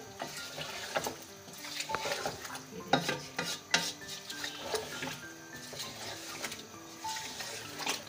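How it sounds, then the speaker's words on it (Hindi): Chicken pieces are stirred in a hot pan over high heat, with a steady low sizzle under repeated scraping and clinking of a spoon against the metal. The scrapes come in irregular bursts, fairly close and moderately quiet. "अब हम इसके अंदर चिकन ऐड कर देंगे। और इसको हम ज़रा तेज़ आंच पे ना अच्छे से भूनेंगे चिकन को।"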